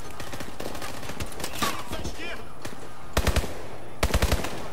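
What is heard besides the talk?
submachine gun fire in the video game Call of Duty Advanced Warfare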